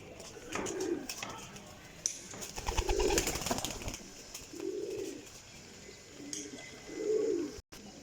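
Parwazi flying pigeons coo in soft, rounded low calls every second or two, with a brief burst of wing flapping in the middle, fairly faint and close by.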